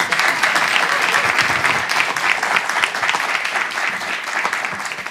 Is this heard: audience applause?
yes